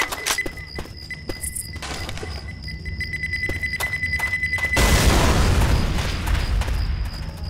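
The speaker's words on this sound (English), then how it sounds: "Throwing a pipe bomb!" Pipe bomb detonating in Left 4 Dead 2 on the Swamp Fever campaign: game clatter and thuds give way to a loud, broad blast whose roar and rumble sustain for the last few seconds.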